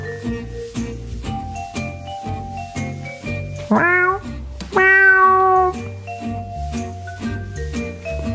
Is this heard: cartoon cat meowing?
yes